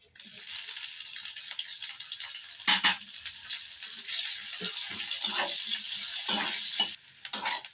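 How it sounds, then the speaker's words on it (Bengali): Chopped onions sizzle and fry in hot mustard oil in a wok, a continuous crackling hiss with occasional louder stirring scrapes and clatters against the pan. "কুচানো পেঁয়াজগুলো ভাজা ভাজা করে নেব"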